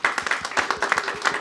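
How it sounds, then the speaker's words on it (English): A room of attendees at a business networking lunch in Nottingham claps, a brief burst of scattered, uneven hand claps at moderate distance, loose and irregular rather than a roaring ovation. "Give yourselves a big round of applause."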